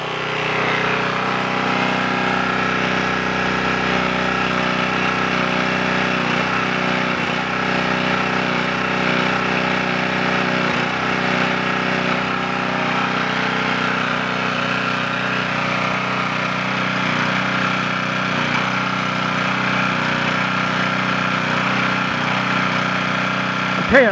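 A small generator engine runs steadily on 3/4 choke, a constant close mechanical drone that is fairly loud, with no talk over it.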